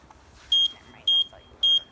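Three loud, piercing electronic beeps from a motorized shopping cart at full throttle sound at an even pace, each about a fifth of a second long, over faint background noise.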